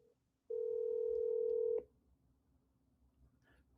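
A steady telephone tone sounds on a new phone system while a call is placed back, loud and unbroken for just over a second, then cuts off into quiet line hiss with a faint sound near the end.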